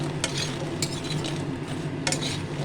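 Twelve large lentil dumplings (bori) fry in plenty of hot oil over lowered heat, giving a dense close sizzle with a few sharp spatula scrapes and taps, no voices.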